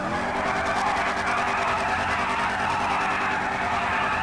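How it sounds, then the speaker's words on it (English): A Trans Am in GTA 5 roars with a loud, steady engine note while its tires skid and squeal continuously throughout, close and unbroken with no pauses. "What y'all hear that motor?"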